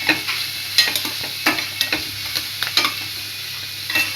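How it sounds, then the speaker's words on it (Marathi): Onions fry in oil for pithla and are stirred in a pan, with a constant sizzle under repeated sharp scrapes and clacks of the spoon at an irregular rhythm, close and fairly loud. "कांदा टाकून मस्त कांदा लाल करून घ्यायचा आहे"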